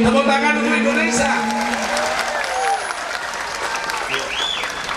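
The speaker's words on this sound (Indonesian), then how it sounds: "Tepuk tangan untuk Indonesia." Crowd applause honoring Indonesia at an Islamic religious gathering in Taipei, Taiwan, loud and sustained for about five seconds, with a spoken voice heard over the clapping at the start.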